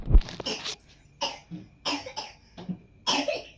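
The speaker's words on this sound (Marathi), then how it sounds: "सारखी खोकत आहे, सारखी डासत आहे." A series of rough, hacking coughs in separate bursts, close and fairly loud, with short pauses between them.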